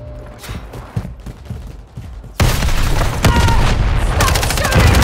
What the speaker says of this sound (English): Stop shooting me. I'm taking fire.